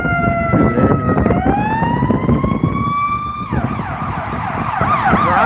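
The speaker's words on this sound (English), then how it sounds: "Here's an ambulance." An ambulance siren wails with rising and falling tones, fairly close and loud, shifting to a faster yelp pattern midway over steady street noise in downtown Chicago.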